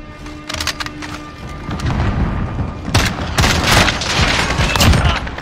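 Pistol hip fire from a Desert Eagle in Call of Duty PC beta, Domination mode: several sharp, loud shots in quick bursts amid heavy in-game gunfire and booming battle noise.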